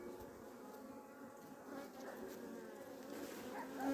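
Honeybees buzzing inside a hive in midwinter in Adana, with drones present, make a steady, soft, continuous hum that stays close and even throughout.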